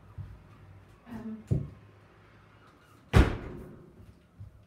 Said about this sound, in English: I'm going to go and shut my door.